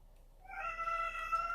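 A cat meows, a single drawn-out, rising cry that starts after a brief quiet moment and holds steady, fairly clear and close over low background hum.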